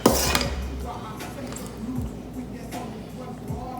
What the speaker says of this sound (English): You want to tap, tap, tippity, tippity, tap, tap.